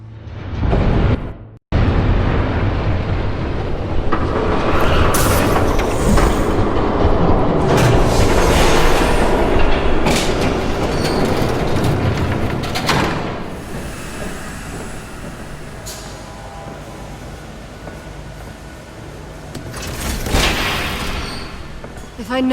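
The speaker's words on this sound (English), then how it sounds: "There's a train coming." Game train from Batman: The Telltale Series rumbling in loud and close, with hissing and rolling wagon noise building and sustained before easing, and voices talking over part of it.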